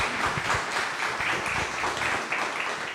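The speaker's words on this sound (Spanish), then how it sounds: "Y seguimos un aplauso." A conference audience claps together in steady, dense applause that fills the room evenly throughout, with no one speaking over it.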